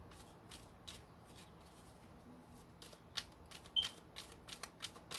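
A deck of cards is shuffled close by, soft riffling bursts and light taps coming in irregular clusters over a quiet background hiss.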